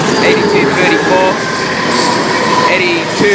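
Several 82 class diesel locomotives haul a train past Seven Hills station in Sydney, loud and close, with continuous wheel rumble, clatter and faint squealing throughout.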